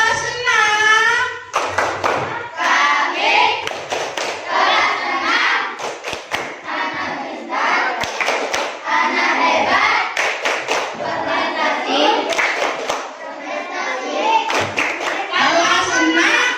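Schoolchildren in a classroom chant a class cheer together before going home, their voices rising and falling while sharp rhythmic hand claps cut through at intervals, loud and close.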